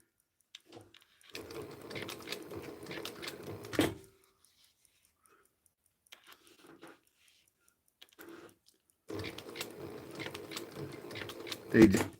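A sewing machine stitches a pillow in short runs with pauses between them, a quiet whirring that starts and stops several times amid a few soft handling noises.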